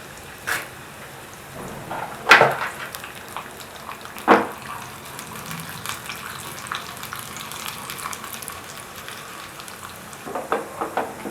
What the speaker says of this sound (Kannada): ಒಗ್ಗರಣೆಗೆ ನಾನು ಜಸ್ಟ್ ಇಲ್ಲಿ ಉದ್ದಿನಬೇಳೆ ಕಡಲೆಬೇಳೆ ಮತ್ತು ಕರಿಬೇವನ್ನು ಮಾತ್ರ ಯೂಸ್ ಮಾಡ್ತಾ ಇದ್ದೀನಿ